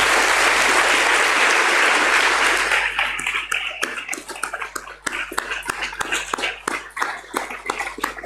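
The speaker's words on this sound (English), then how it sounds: "an applause where you just clap many times until she comes here" An auditorium of first-year university students at Jomo Kenyatta University gives the Vice Chancellor loud, dense applause that holds steady, then thins into scattered, irregular claps.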